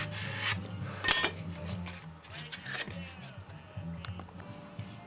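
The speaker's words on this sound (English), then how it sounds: "I'm doing all my fits by just taking the line off with the sandpaper" Sandpaper rasps over balsa parts of a Windy U Master 822 Spitfire model airplane kit, in quick, irregular close strokes with a low tonal hum running underneath.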